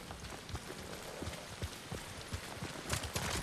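A horse gallops in Ghost of Tsushima, its hooves beating a quick, steady clip-clop on the ground under a soft, rain-like wash of ambient noise.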